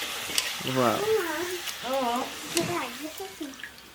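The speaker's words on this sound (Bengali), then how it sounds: "একটা ঘরে পাপড় ভাজা হচ্ছে" Papad frying in hot oil gives a steady close sizzle and crackle, while voices talk over it for much of the time.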